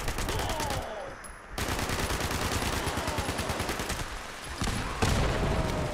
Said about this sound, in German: Jetzt, die Explosion hat das alles gerade weggerissen hier.